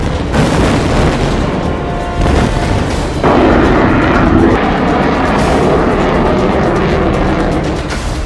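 Rafale fighter jets being inducted into the air force at Ambala airbase, a loud roaring rumble with a booming surge partway through, sustained and powerful like jets passing close overhead, with no talking.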